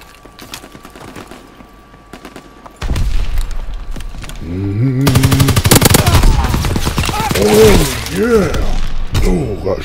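Rapid bursts of gunfire from Call of Duty WW2 multiplayer: sparse sharp shots at first, then dense, loud automatic fire with explosions and shattering, mixed with game voices and effects.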